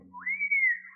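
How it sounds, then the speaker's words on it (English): A whistling effect for a pitched baseball on an old-time radio broadcast: a single clear tone that bends sharply upward, then holds and slowly sags, heard alone with a faint low hum beneath. "he must have pitched that blazing ball, 'cause there was a whistling sound"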